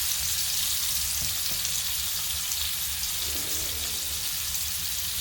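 Ribeye steak sizzling in a pan during a reverse sear, a dense continuous hiss and crackle filling the clip at a steady level, close and alone.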